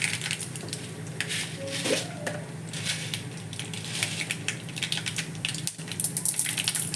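Mustard seeds spluttering in hot oil in a pan while tempering for idli batter bonda, a continuous close crackle of sharp pops and sizzling throughout, with a faint brief clink of utensils.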